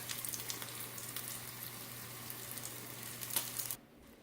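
Steady sizzling and crackling of Parmesan-crusted pork chops frying in a hot pan, continuous and close, with a low hum underneath, stopping abruptly near the end.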